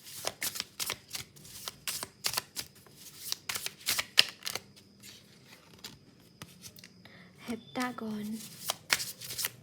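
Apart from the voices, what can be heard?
shuffling tarot cards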